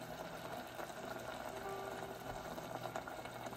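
Cherry tomato jam simmers in a pot on a stove, a faint, steady low bubbling and gentle hiss that carries on without break.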